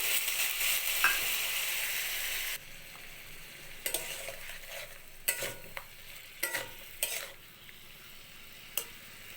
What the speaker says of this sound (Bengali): মশলার সাথে ভালোভাবে সবজিটা কষিয়ে নিয়েছি